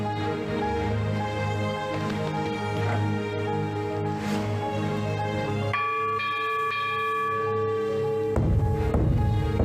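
A bronze temple bell rings loudly with a long, shimmering sustain. It is struck again near the end, and the fresh strike layers over the decaying hum. No one speaks.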